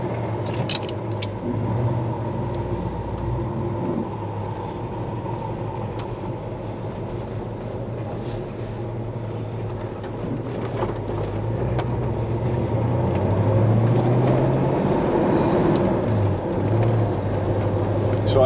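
A 1979 Camaro Z28 out on a test drive, its engine rumbling steadily from inside the car with road noise, growing somewhat louder toward the end.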